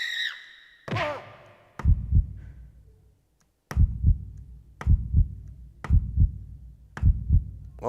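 A deep, booming heartbeat sample played on an MPC One thuds in steady double beats, loud and close, after a brief whistling sweep at the start.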